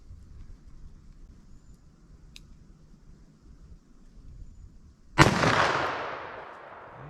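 A single .357 Magnum revolver shot, Remington HTP load, fired at a target 75 yards away: a sharp, loud crack rising out of quiet outdoor background, then a long fading echo.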